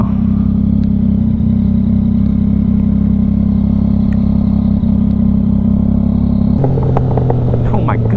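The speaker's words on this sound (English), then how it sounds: "these diesel pops, bro. These are crazy." A tuned 2022 Yamaha XSR900 motorcycle runs loud and close with a steady rumbling drone, then the exhaust breaks into a burst of crackling pops near the end.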